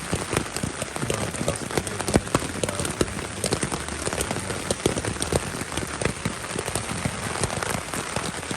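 Rain pattering steadily on a tent or tarp at a campsite on the Appalachian Trail, a dense, even hiss of drops with frequent close taps, heard alone without talk.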